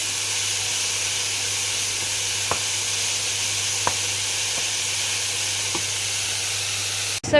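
Mushrooms, carrot and onion sizzle steadily in a pan as a beef ragu reduces, a continuous close frying hiss with a few faint clinks and a soft knock at the end.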